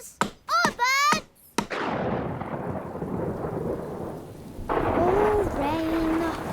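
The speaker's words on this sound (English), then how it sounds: "Oh, rain." Cartoon weather effect: a rolling crack of thunder followed by steady rain pouring down, loud and close, after short cartoon voice sounds and with a character speaking near the end.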